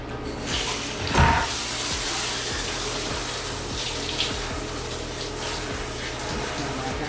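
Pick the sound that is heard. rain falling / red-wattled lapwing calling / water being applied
water being applied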